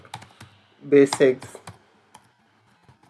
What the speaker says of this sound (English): So I'm just typing MS Word